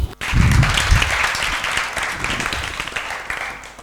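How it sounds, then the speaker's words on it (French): Kindergarten children in a class in Bondoukou break into a burst of applause, a lively clatter of small hands that starts loud and gradually thins out over a few seconds. "Bravo, vous allez vous applaudir."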